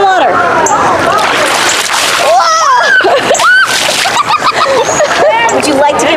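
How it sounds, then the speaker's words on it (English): Water being splashed onto a seal, bursts of splashing and sloshing mixed with squeaky, whistling vocal sounds, close and lively. "Now splash her with some water."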